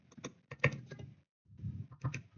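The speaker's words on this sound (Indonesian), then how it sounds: "mengetik perintah seperti ini." A computer keyboard is typed on to enter a command while logged into Metasploit during a TryHackMe network services exercise. Two quick bursts of clustered key clicks are split by a short pause, close and fairly quiet.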